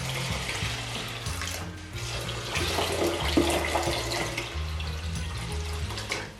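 Water pours steadily into a cooking pot of lentils set back on the stove, a continuous splashing stream heard up close, with a low steady hum underneath.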